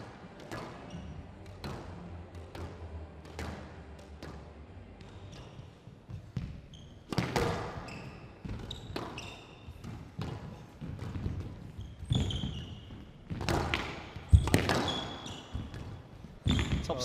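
Squash ball struck back and forth in a professional tournament rally, sharp hollow thwacks and bounces echoing around the court in an irregular rhythm, with shoe squeaks and crowd noise building, louder toward the end.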